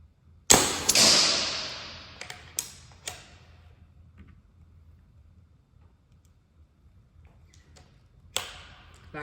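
A single sharp crack from a Remington Mammoth .22 air rifle firing a 15.89 grain JSP pellet, loud and close, followed by a fading ring and a few faint ticks and taps, then another sharp knock near the end.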